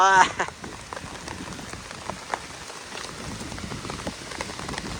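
Rain falls on a rural property with banana plants, a soft, steady patter of drops hitting surfaces, fairly faint with a few sharper taps and a brief louder burst at the start.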